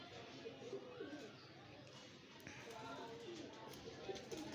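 Pigeon cooing, with soft repeated low coos heard faintly in a quiet setting alongside someone talking about a female pigeon.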